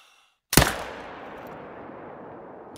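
A single .308 rifle shot in the hunting game theHunter Call of the Wild, a sharp loud crack after a moment of silence, then a long rolling echo fading out, no talking.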